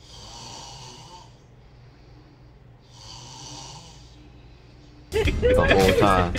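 Two long, noisy snores a few seconds apart, breathy and rasping, followed by a sudden burst of louder, busier sound at the end.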